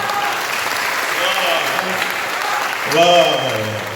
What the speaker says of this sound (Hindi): तालियां थोड़ी सी कमजोर हैं।